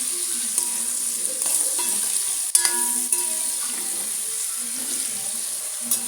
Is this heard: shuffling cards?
no